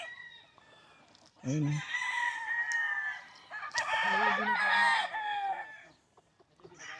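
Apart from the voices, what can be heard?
chickens and roosters clucking and crowing on a farm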